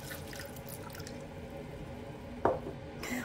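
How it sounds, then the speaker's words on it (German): Milk and water poured together into a Thermomix bowl, a steady, close liquid pour with dripping and filling sounds and a brief splash near the end, with no talking. "Dazu gebe ich dann 200 Gramm Milchwasser, das heißt 100 Gramm Wasser und 100 Gramm Milch."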